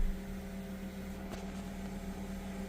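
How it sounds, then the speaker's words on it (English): The auxiliary fan of a BMW E36 328i runs with a steady, low, even whir and hum, heard faintly and continuously from inside the car without any talking. "The fan just kicked in, the auxiliary fan"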